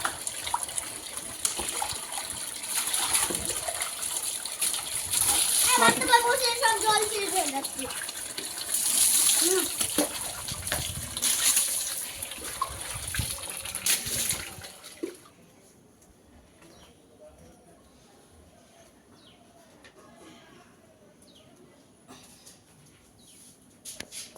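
Water gushes from a tap into a mug, a loud splashing flow for about fifteen seconds that then cuts off, leaving near quiet.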